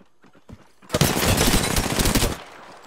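Automatic gunfire in the Apex Legends video game, a dense sustained burst of rapid shots lasting about a second and a half after a quiet start, loud and close with no talking over it.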